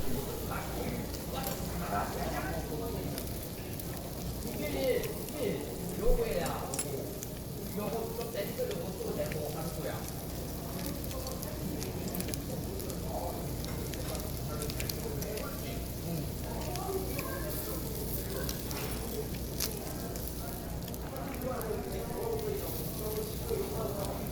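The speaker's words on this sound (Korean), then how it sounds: "이번엔 김치하고 고기를 이제 같이 옆에서 볶기 시작합니다" Kimchi and meat stir-frying together on a grill at a Korean all-you-can-eat barbecue buffet, a steady dense sizzle with faint scraping and stirring, mixed with murmured voices and restaurant chatter.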